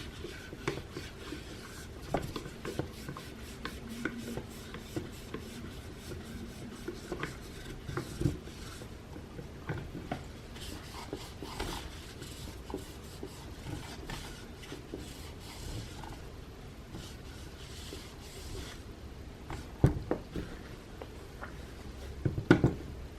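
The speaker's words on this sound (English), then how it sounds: "I'll wipe this down a few times." A wet paper towel rubs and scrubs across the nonstick cooking plate of a Dash mini griddle, making steady close-up scratchy swishing strokes, with faint clicks and a few sharper knocks toward the end.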